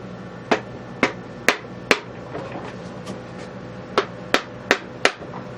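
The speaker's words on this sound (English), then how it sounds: "Block of wood, hammer." A hammer strikes a block of wood while taking apart a T96 transmission, about ten sharp, close knocks in an uneven rhythm with a short pause in the middle, no talking.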